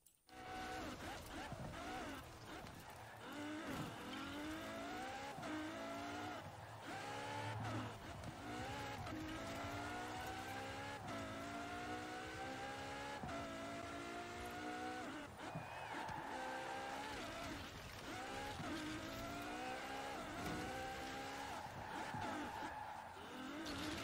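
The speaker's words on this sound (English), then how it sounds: "I really like when it makes that noise when we're driving on the Lego surfaces" A Lego Ferrari in Forza Horizon 4 drives across Lego surfaces, its engine revving up and down through repeated gear shifts with tyre noise, loud and close throughout.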